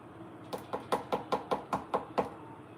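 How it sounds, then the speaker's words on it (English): Someone raps on a front door with about nine sharp, evenly spaced knocks in a quick steady rhythm, close and clear against a quiet room. "A knock at my front door."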